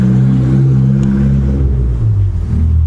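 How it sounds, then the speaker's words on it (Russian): A car drives along a quiet village street in Golubitskaya stanitsa on the Azov Sea coast, its engine giving a steady, fairly loud low rumble that swells and eases slightly through the whole stretch. "Изредка проезжают вот машины"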